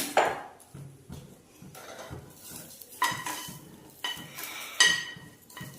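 Green chillies roasting in a pan for chutney, a spoon scraping and stirring against metal with repeated clinks and a soft sizzle underneath, steady and close.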